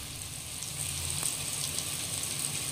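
Fish coated in masala frying in oil gives a steady, close sizzling hiss that runs unbroken throughout, with no talking.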